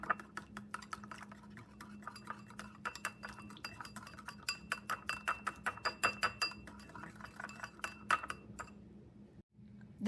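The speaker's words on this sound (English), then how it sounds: "you need to use a small whisk and whisk this all together" A small whisk clinks rapidly against a bowl, beating salt, pepper and Italian seasoning into a salad dressing, a steady run of sharp metallic ticks that speeds up and grows louder before stopping near the end.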